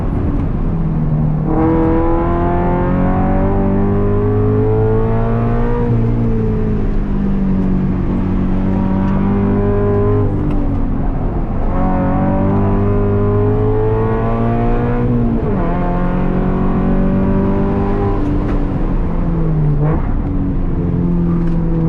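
An FRS GT86 race car laps a track, its engine repeatedly climbing in pitch through the gears with brief drops at each shift, a loud, steady in-car drone with no talking.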